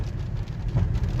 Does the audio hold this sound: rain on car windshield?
yes